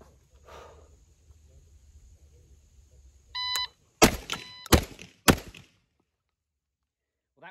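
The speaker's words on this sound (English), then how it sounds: "Might actually be able to hear the beeper now through my headset." A shot timer gives a short electronic beep after a quiet stretch. Three sharp, loud gunshots from a shotgun follow in quick succession, each ending in brief echoes before silence.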